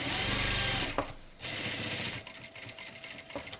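A sewing machine stitches fabric for a handmade bow, running loudly and steadily for about a second, pausing briefly, then continuing in shorter, uneven bursts.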